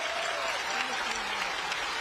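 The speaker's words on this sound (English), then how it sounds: "let's clap for that" Audience applause at a university celebration of the Hawkeye women's basketball 2023-2024 season, a steady dense wash of clapping from a large crowd filling the whole moment.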